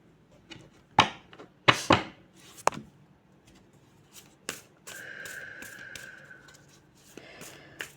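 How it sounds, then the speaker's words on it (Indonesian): Tarot cards are shuffled and handled up close: sharp riffles and slaps come in short bursts with quiet gaps, and a faint hum sounds beneath the cards near the end. "Jadi sekarang kita kocok dulu kartunya, kita keluarkan semua dulu kartunya"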